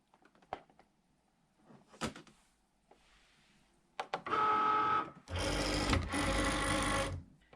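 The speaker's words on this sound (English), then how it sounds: "So we'll come over to the machine and load the mat." A Cricut Maker cutting machine loading a cardstock cutting mat: a few quiet clicks and taps, then two loud mechanical whirring runs of the feed motor, close and alone.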